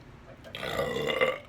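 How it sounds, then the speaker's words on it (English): A long, low, rumbling burp from someone at a mukbang eating challenge, rising after a brief pause and rolling on for about a second, close and loud. "Mug burp."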